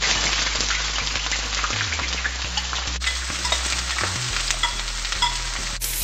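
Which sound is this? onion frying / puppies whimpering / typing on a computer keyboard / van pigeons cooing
onion frying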